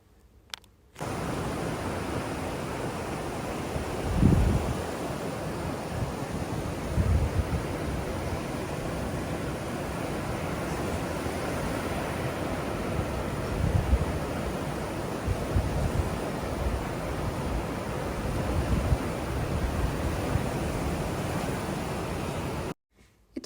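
Steady sea surf washes onto a shore in Gangwon-do, South Korea, a continuous broad roar with soft swells and no talk, fading in and out at the edges.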